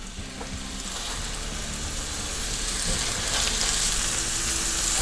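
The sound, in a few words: duck breasts sizzling in a hot skillet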